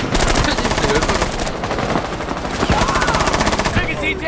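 Automatic gunfire in Rainbow Six Siege rattles out in loud, rapid bursts, with long strings of shots broken by brief pauses.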